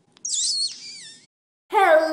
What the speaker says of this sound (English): This is Picasso, my mustache parakeet